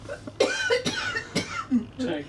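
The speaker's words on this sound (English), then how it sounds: "Mum coughs." A woman coughs a few times in quick, close bursts on a cruise holiday outing in Lisbon, mixed with nearby voices and laughter.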